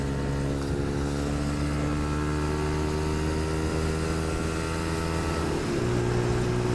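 A Brixton Felsberg 125 motorcycle drones steadily while being ridden to a car wash, its engine a constant close hum with a slight pitch change near the end and no talk.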